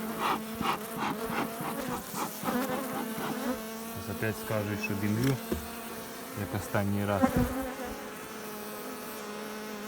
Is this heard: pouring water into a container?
no